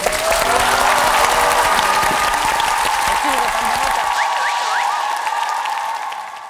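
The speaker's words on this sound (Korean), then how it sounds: "박수 한번" Studio audience applause on a Korean television talk show, a loud, sustained roar of clapping that carries on beneath a few spoken words before slowly fading at the end.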